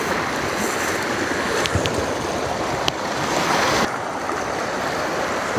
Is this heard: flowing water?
yes